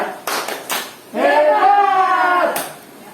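In an Indonesian training session, a group claps a rhythmic cheer: several quick claps, then a sustained chanted voice, then a final clap.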